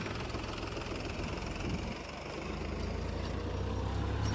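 A Mahindra tractor runs while ploughing a field, its engine making a low, steady, fairly quiet rumble. The hum deepens slightly partway through and stays even to the end.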